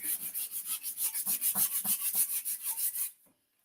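Sandpaper rubs back and forth over a surface where a sticker had been, about a dozen steady rasping strokes in a quick even rhythm, close and fairly loud, ending abruptly.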